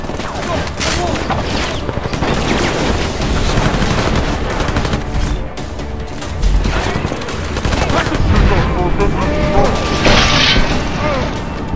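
Combat gunfire in the Deus Ex: Mankind Divided video game: dense, continuous bursts of shots and mechanical clatter over a booming game soundtrack, loud and close throughout, with someone narrating over the action.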